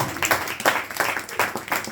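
An audience at a Bhagavad Gita class applauds with a burst of irregular clapping from a modest group, close and fairly loud, with faint murmuring mixed in.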